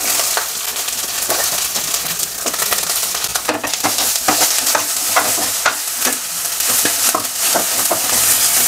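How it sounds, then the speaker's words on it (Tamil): Onions, garlic and curry leaves sautéing in a small amount of oil crackle loudly up close, punctuated by repeated scraping clicks of a spoon stirring the pan. "இப்போ இதை கொஞ்ச நேரம் வதக்கிக்கலாம்."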